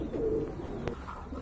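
At a sale of local and foreign pigeon breeds, a pigeon gives a single short, low coo over a dense, steady background murmur.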